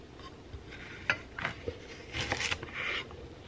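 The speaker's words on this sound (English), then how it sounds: "I thought I'd just go ahead and chop the veggies before my call" Vegetables being chopped for fried rice, heard as a few light, scattered knife taps and clinks of utensils against a board and dishes, faint and close, with no talking.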